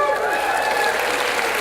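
Crowd cheering at a teacher appreciation event for a Jeep Wrangler, a loud, sustained wash of mixed voices and whoops with no pauses.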